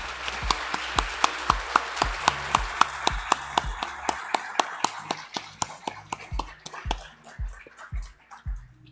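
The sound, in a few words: audience applause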